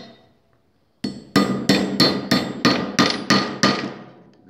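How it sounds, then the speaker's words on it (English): After a faint opening, about eight sharp, evenly spaced hammer strikes ring out close and loud, driving a burr down onto a rivet through a socket, each blow with a short metallic decay. "Drive the burr down onto the rivet."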